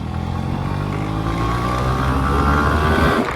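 A Yamaha RX 135 two-stroke motorcycle on a ride gives a steady, close, loud engine drone with a buzzing harmonic tone that climbs slightly toward the end.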